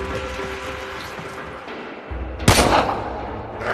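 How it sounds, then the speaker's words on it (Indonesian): Gunfire in the Warframe game: a sharp, loud shot bursts out after a quieter stretch of rumbling game ambience, with a short echoing tail. "Ada yang udah mendengar suara tembakan guys."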